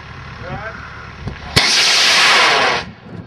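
A model rocket on a CTI I470 motor ignites with a sharp crack and a loud, steady roaring burn for over a second before it cuts off, following a quiet stretch with faint background sounds.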